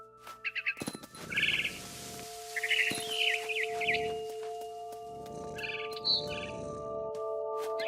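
A barn swallow chirps in quick, bright bursts outside a window in the video game What Remains of Edith Finch, with repeated twittering phrases over a steady, soft ambient game backdrop and no speech.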